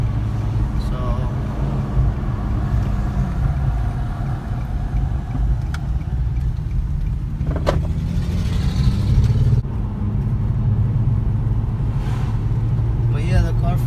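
A car drives along at moderate speed while its engine hums and rises through revs with a slight misfire, with a person talking throughout over the road and engine noise.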